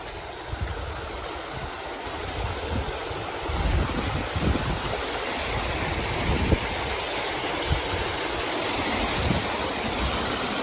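A steady roar of rushing water from a waterfall that doubles as an alpine hiking trail in Rocky Mountain National Park, loud and continuous with some wind buffeting the microphone and occasional footstep thumps.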